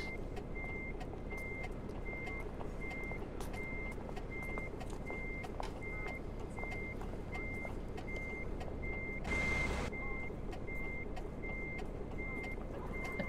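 A truck reverses in a truck-driving video game, its backup alarm beeping steadily at an even rhythm over a continuous engine hum, with a brief air hiss partway through.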